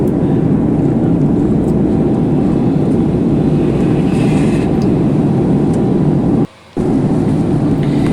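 Cabin noise aboard a Qatar Airways passenger jet in flight: a loud, steady engine and air roar filling the cabin, broken only by one brief dropout near the end.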